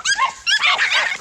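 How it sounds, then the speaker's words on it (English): Several dogs, four in all, let out a loud chorus of yips and barks at a reptile during an animal fight, two close bursts of overlapping high barking. "all 4 dogs unleash a chorus of barks, hoping to intimidate the reptile"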